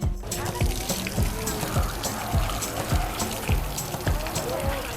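Water runs steadily from a foot washing station at the entrance of an all-inclusive resort, a continuous splashing trickle with repeated soft dripping pulses, heard close up over low background noise.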